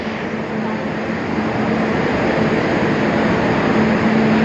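Steady low rumble of the Darjeeling Mail passenger train idling at a platform, with a faint continuous hum throughout and no talking.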